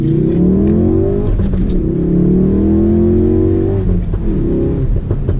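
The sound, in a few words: four-cylinder sports car exhaust popping and banging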